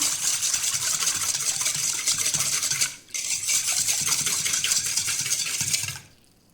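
A spoon stirs oil and salt together in a bowl with a quick, continuous scraping swirl that pauses briefly midway and then stops. The sound is close and moderately loud, with no voices.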